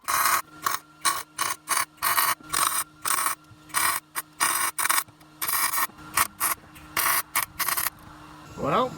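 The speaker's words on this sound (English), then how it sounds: "Time to put these head bolts in there." A ratchet tightens head bolts in a rapid series of short, loud clicking bursts, each separated by brief pauses, with a faint squeak at the end.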